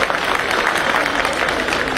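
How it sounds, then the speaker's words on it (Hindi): An audience of lawyers at a Bar Council of Delhi welfare symposium claps in a steady, fairly dense wash of hands, continuing evenly from start to end. "भाई NCR वाले तो ताली बजाओ।"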